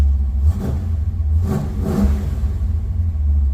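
Engine revs rising and falling as the throttle is blipped on a road-trip vehicle showing 80 pounds of oil pressure, steady loud rumble with two swells, no talk.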